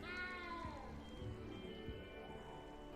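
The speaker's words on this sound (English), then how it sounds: "cat is still like meowing in my ear" A cat in the video game Hogwarts Legacy meows loudly and close, a drawn-out plaintive call followed by softer whining tones over steady game background sound, with no speech.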